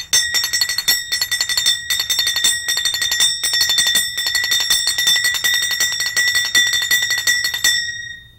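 Kartal cymbals played with a finger lightly touching the side, producing a fast, continuous shimmer of bright metallic clinks with faint rhythmic pulses, close and loud, ending in a short ringing decay.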